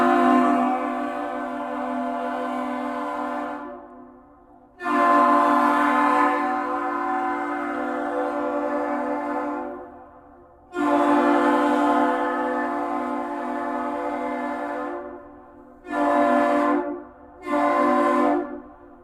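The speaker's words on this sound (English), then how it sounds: "Master salute. 3 long, 2 short." A deep, loud ship horn sounds a master salute of three long blasts followed by two short ones at the Duluth Lift Bridge, each ringing out clearly with brief silences between.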